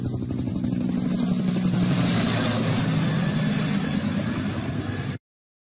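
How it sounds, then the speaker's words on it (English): Helicopter with a continuous whirring engine drone and a fast rotor chop, loud and steady throughout, holding an even level before stopping abruptly. "Helicopter."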